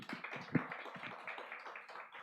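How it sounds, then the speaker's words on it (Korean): Church congregation at a youth worship service clapping together after a prayer, a soft, steady patter of many hands with one sharper clap standing out, fairly quiet and without talk. "박수 쳐주세요."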